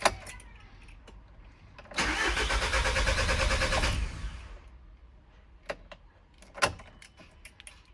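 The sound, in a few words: VW Caddy engine cranking and starting after injector replacement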